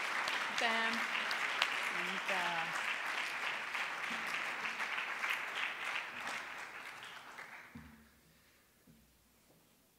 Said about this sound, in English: So I'm asking you a round of applause for thanking